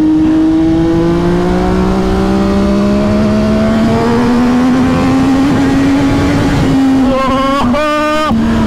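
An MV Agusta F3 800 three-cylinder motorcycle revs hard as it accelerates, its engine note climbing steadily and loud and close. Near the end come quick gear changes with brief dips and rises in the revs.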